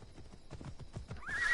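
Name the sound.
horse neighing and galloping in video game Assassin's Creed Odyssey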